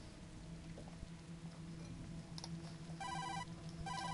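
In the video game Tokyo Dark, a phone rings inside a dumpster; faint electronic ring bursts come in short pulses near the end, over a quiet rainy background.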